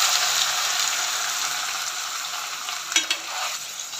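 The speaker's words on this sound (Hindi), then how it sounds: "अब हम इसके अंदर डालेंगे सब्जियां और इसको फ्राई करेंगे" Vegetables frying in very hot oil for instant achar make a steady, close sizzle, with a short clatter of stirring near the end.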